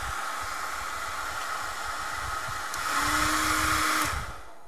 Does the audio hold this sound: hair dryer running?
yes